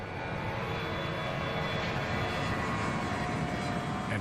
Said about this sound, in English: It's probably one of the best 757s built, probably one of the best corporate airplanes built.